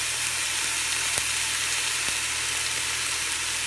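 Pot roast meat searing in a frying pan, a dense, even sizzle held close and loud throughout, broken by two faint ticks.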